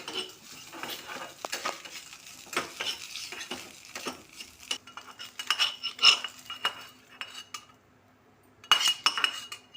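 A spoon stirs and scrapes in a pan as eggs cook in a tempering of spices in dal, with irregular metallic clinks and scrapes over a faint sizzle and a pause near the end.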